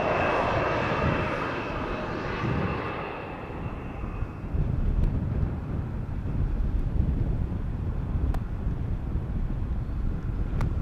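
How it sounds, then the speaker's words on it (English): A Boeing 787 Dreamliner arriving at Amsterdam Schiphol, a loud steady jet roar with a fading high whine, heard over gusty wind buffeting the microphone at the runway. "Dreamliner inbound from Las Vegas"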